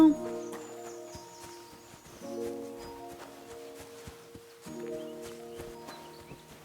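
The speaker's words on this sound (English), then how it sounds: "There's some beautiful horses." Horses in Kingdom Come Deliverance II, with soft clip-clop hooves and rustling under a gentle musical backdrop, fairly quiet and unhurried.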